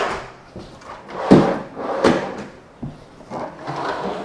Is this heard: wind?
no